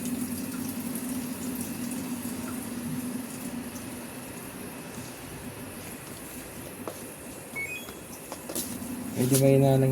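Water runs into an automatic washing machine with a weak, low flow from a clogged filter, giving a faint, steady trickle and hiss with a mechanical hum, until a louder burst near the end.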